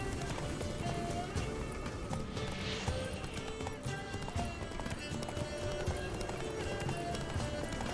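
A horse gallops through a Witcher 3 game world, with steady rhythmic hoofbeats and a dense, busy background.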